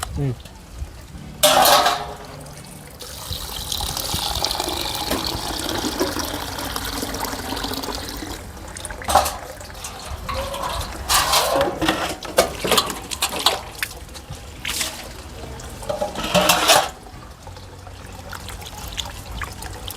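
Raw mutton is being washed by hand with water, splashing and trickling on and off in irregular bursts close by, with people speaking over it.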